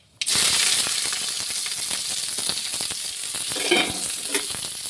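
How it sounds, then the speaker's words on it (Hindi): Chopped onions and chilies hit hot oil with mustard seeds in a kadhai, bursting into a loud, continuous crackling sizzle with scattered pops and stirring scrapes, with no talk. "और देखिए प्याज और मिर्ची को काट के रखी हूँ, चलिए डाल देते हैं ये।"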